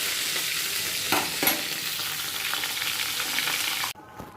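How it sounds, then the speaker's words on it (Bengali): Fish heads sizzle steadily in hot oil in a pan, with a few louder spatters and stirring scrapes, then the sound cuts off abruptly near the end. "মাছের মাথাগুলোকে আগে ভেজে রাখি।"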